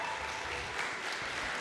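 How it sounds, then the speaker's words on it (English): An audience at a model UN conference opening ceremony claps in a brief, dense burst of applause, steady and moderately distant, with no talking. "Clapping is not in order."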